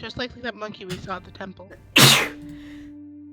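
A single sharp, loud sneeze bursts out right after a stretch of talk, followed by a low steady hum.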